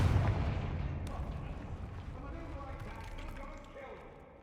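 A Confringo fire spell explodes in the Hogwarts Legacy video game: a loud booming burst up front that rolls into a long, slowly fading rumble over scattered crackling debris.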